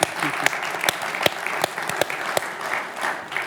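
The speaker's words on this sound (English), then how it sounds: "it deserves a round of applause from this audience." Applause from a conference session audience at Davos, with scattered distinct claps over a softer bed of clapping, moderately loud and steady with no talk over it.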